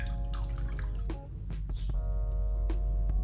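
Glaze drips and trickles off a ceramic butter dish just lifted from a dipping bucket, soft wet patters close by over a steady low hum, with no talking.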